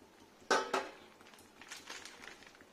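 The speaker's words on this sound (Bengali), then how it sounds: "এবার ঢেকে নেবো একটা বাটি, বড় সাইজে, যাতে ওর তেলটা না লাগে।" A large bowl is set down over a cooking pan of okra, giving two quick, close clinks of metal and ceramic, followed by faint, light clatter.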